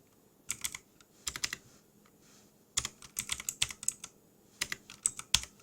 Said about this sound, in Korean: 자, 이렇게 쓰고 또 엔터를 치고 컨트롤 플러스 키 누르면